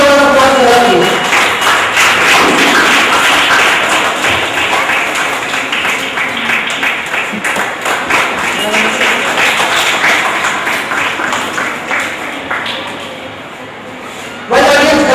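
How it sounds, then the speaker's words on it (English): A crowd at a school event claps steadily for a judge, a dense rattle of hands under a busy, echoing room, thinning toward the end before a brief final burst. "A strong round of applause for her, please."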